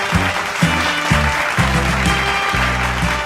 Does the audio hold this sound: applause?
yes